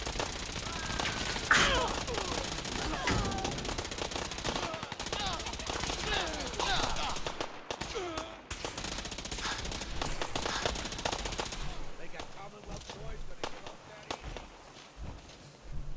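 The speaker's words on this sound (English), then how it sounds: "The Gatling laser, for some reason, they're exceptionally good at using the Gatling laser." Rapid laser gunfire from a Gatling laser in Fallout 4, a long sustained stream of bursts through most of the stretch, with a companion's voice and talk over it and quieter trailing shots near the end.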